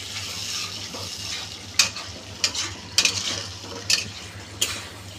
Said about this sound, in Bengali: এটা মশলার মধ্যে একটু ভালো করে কষিয়ে নিই।